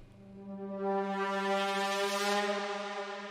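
A clean cinematic synth braam with no sub oscillator or low saw layer, heard alone as a steady, bright harmonic drone that swells after the first second and holds loud for several seconds.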